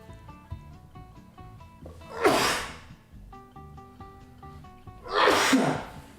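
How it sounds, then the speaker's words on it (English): Two loud sneezes, a few seconds apart, over a quiet background with soft sustained musical tones. "Oh, sorry guys, sneezing coming."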